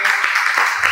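Church congregation clapping for God during a Kinyarwanda worship service, a continuous broadband patter of many hands filling the whole second, loud and close, with voices mixed in.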